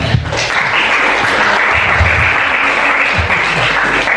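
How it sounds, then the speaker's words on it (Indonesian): An audience at a vocational school event claps together, a sustained, even burst of applause lasting several seconds with a low murmur of voices underneath. "Tepuk tangan untuk kita semuanya."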